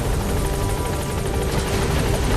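Helicopter rotors in Metal Gear Solid V thump in a loud, close, continuous wash of noise, steady across the short stretch with no voices over it.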